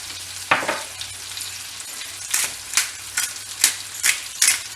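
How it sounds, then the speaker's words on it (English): Pork tenderloin searing in a pan, a low steady sizzle punctuated by a series of sharp scraping or tapping strokes in a loose rhythm. "Let it sear about 2 to 3 minutes on this side"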